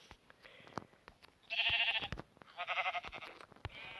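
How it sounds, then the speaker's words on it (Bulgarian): Sheep bleating in Minecraft, two or three wavering bleats, moderately loud, over light clicking and tapping noises. "Чува се някъде още една овца."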